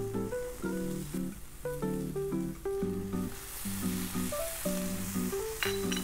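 Sambal and coconut milk sizzle in a pan with a tofu scramble, giving a steady hiss that runs under tuneful background music throughout.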